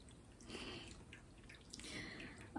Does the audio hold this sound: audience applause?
no